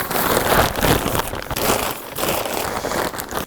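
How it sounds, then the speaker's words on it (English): A hard accordion case with the accordion inside is slid into a plastic bag, producing close, continuous crinkling and rustling of plastic with short crackly bursts throughout. "Last thing we do with the case with the accordion in it, we're going to put it in the bag"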